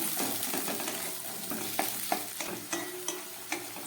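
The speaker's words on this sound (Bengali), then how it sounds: "এই সমস্ত সবজিগুলোকে আমি খুব ভালো করে ভেজে নেব" Capsicum and green peas sizzle as they fry in a pan for veg moong dal, with a spatula scraping and stirring in repeated strokes over a steady hiss, no talking.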